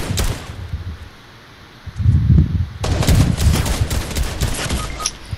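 Rapid automatic gunfire bursts in the video game Fortnite, played on PS5: a short burst, a lull, then sustained loud chattering volleys with brief gaps, close and unmasked by voices.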